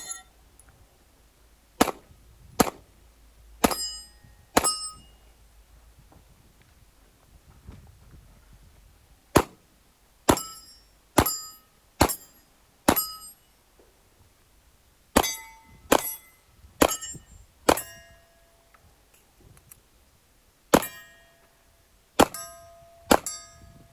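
Pistol rounds ring off steel targets on a 2-gun match stage: about fifteen sharp metallic clangs arrive singly and in quick pairs across the stretch, each a bright ping with a short decay, over a quiet outdoor background.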